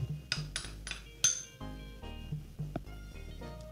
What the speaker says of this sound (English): just smash some of this chickpeas and then add the rest